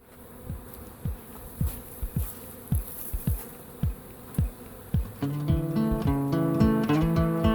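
Honey bees crowd a hive frame during queen rearing, a soft, steady buzzing beneath a rhythm of regular thumping beats, with tuneful music joining in partway through.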